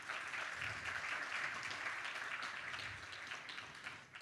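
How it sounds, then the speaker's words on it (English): Audience applause for a panel of women at a conference discussion, a steady wash of clapping heard from a distance at low volume, easing slightly toward the end. "A big round of applause for them."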